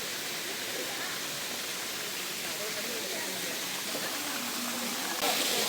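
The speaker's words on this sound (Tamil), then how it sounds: "இப்போ தண்ணி இவ்வளோதான், லைட்டாக கொட்டுது." Suruli waterfall falls lightly in a continuous, even hiss of splashing water that holds steady throughout.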